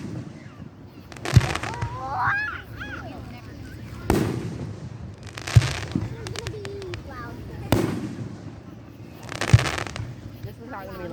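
Fourth of July fireworks bursting in repeated loud booms about every two seconds, each followed by crackling, with people talking and calling out nearby between the blasts.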